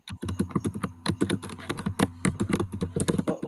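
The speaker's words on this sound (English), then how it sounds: "Who is typing like that?" Loud, fast typing on a computer keyboard, close up, with rapid irregular bursts of hard key clacks running continuously.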